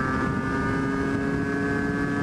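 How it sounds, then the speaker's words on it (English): A Derbi GPR Nude motorcycle on a high-speed run, its engine holding a loud, steady, high-revving drone with a constant tone and no breaks or voices. "I'm getting ready to make a high-speed run on this."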